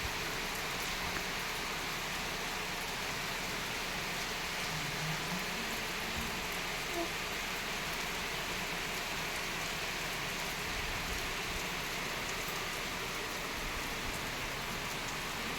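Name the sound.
heavy rain falling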